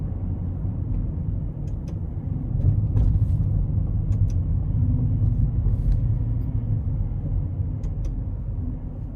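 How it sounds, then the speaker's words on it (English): A 2022 Aston Martin DBX in Sport Plus, heard from inside the cabin under hard acceleration onto an interstate, a deep, steady engine rumble with road roar that swells midway, plus a few faint clicks. "I'm gonna give it a good pull in Sport Plus"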